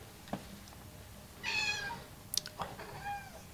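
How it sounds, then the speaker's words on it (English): A house cat named TT meows nearby, one drawn-out cry followed by a couple of softer, shorter calls in a quiet room. "There's the cat."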